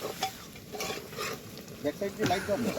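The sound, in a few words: food being cooked, stirred and fried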